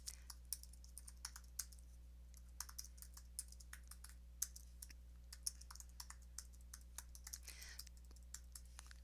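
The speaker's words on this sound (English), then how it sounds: "I'm just going to type just some information in here." Typing on a computer keyboard, a quiet, close run of irregular clicking keystrokes with short pauses, over a steady low electrical hum.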